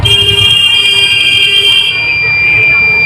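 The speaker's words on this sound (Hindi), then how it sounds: "अगर ये बीप की आवाज़ आ रही होगी, ठीक है, तो आप निश्चिंत हो जाइए कि हमारा रेगुलेटर खुला हुआ है।" A homemade safety alarm fitted to a kitchen gas regulator gives a loud, continuous electronic buzzing beep that holds steady and near, its tone shifting slightly partway through.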